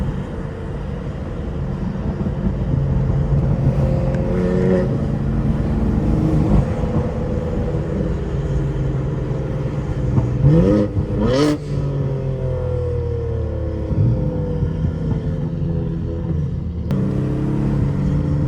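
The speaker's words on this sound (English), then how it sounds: "turbo sounds crazy right now." A turbocharged car, either a Nissan GT-R R35 or a modded BMW G80, accelerates hard through night traffic, a loud close engine drone with rising pitch sweeps as gears climb and a sharp burst of revving midway.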